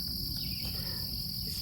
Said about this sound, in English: as you can tell by the crickets coming out and the sun setting behind the Blue Ridge Mountains